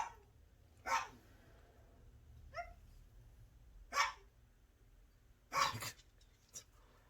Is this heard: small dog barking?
yes